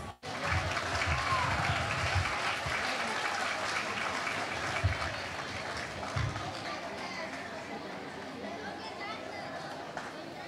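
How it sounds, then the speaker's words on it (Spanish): An audience claps steadily for several seconds, with crowd chatter mixed in, and the applause gradually thins out. "a la cual le ofrecemos un fuerte aplauso"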